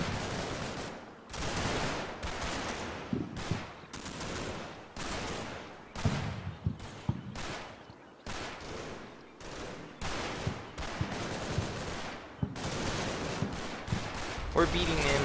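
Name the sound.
gunfire in a firefight, video game Combat Mission: Battle for Normandy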